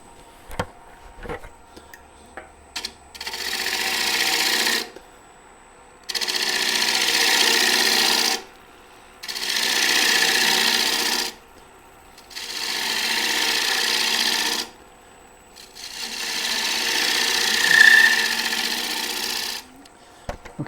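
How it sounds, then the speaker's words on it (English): Scraping cut with a bowl gouge against a wooden bowl spinning on a lathe, heard as five steady hissing bursts of several seconds each, separated by short quiet gaps. "I'm going to start making a scraping cut until I see that this curve is matching in with everything else"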